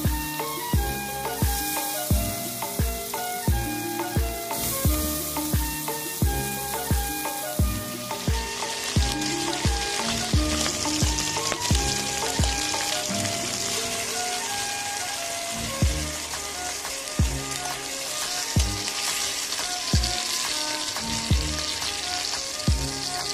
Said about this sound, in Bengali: ঠিক একইভাবে পরের গুলো ভেজে নেবো।